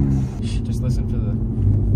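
A Lexus RC350 fitted with a turbo and an aftermarket axle-back exhaust revs with a deep, close rumbling engine note, while excited voices talk over it.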